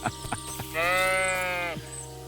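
A sheep in the medieval video game Kingdom Come Deliverance 2 lets out one clear, wavering bleat lasting about a second, preceded by a few soft knocks and set against faint ambient background.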